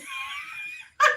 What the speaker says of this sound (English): I can scream